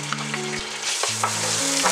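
Bacon fries in olive oil in a pot, giving a loud, dense, close sizzle throughout, with steady tonal hums sounding underneath.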